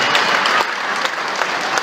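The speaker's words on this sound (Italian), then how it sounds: "vi faccio alzare in piedi, un grande applauso per l'impegno." Young members of the Filarmonica Sestrese wind band receive loud, dense applause from an outdoor concert crowd at Porto Antico in Genoa, steady clapping close by with no pause.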